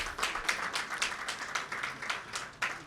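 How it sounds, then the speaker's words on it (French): Conference audience in a sports hall applauds the speakers after a debate, steady rhythmic clapping from a crowd, moderately distant and unbroken throughout. "Est-ce qu'on peut applaudir pour eux pour sortir justement de ce débat?"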